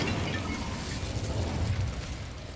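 A video game Incendio fire spell lights a fire with a dense, roaring whoosh of flame that holds loud and steady throughout, no voices.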